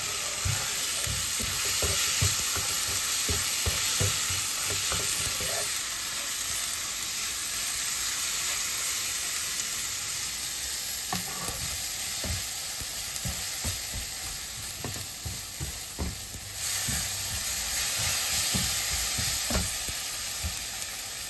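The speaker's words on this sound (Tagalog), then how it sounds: "kailangan natin lutuin yung kamatis na madurog na siya" Tomatoes for pinakbet, cooked with squash, fry loudly in a pan with a dense, continuous sizzle and repeated scraping stirs throughout.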